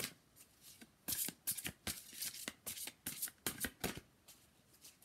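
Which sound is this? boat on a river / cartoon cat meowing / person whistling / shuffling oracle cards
shuffling oracle cards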